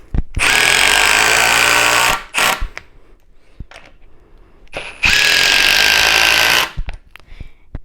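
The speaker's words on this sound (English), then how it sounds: "If I was having a conversation 10 feet away from this drill, it would not bother me." A Milwaukee Surge impact driver runs in two loud, sustained bursts of about two and five seconds, separated by a quieter gap with brief clicks and handling noises.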